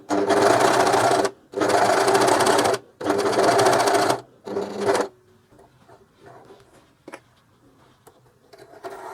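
Coverstitch sewing machine running three needles while stitching a fabric hanging loop, four steady whirring runs separated by short pauses, close and loud, followed by quiet handling clicks.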